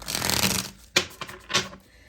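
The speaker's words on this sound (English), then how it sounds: "One more shuffle." A quick run of papery riffling as tarot cards are shuffled, followed by a few sharp, separate card snaps and flutters, close and fairly loud, with no voices.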